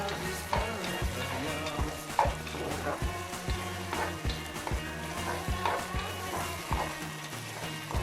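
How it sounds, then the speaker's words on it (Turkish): Diced meat sizzles and fries steadily in a pot, with repeated scraping stirs of a utensil against the bottom roughly every second. "Kuşbaşı etlerimi güzelce soteliyorum"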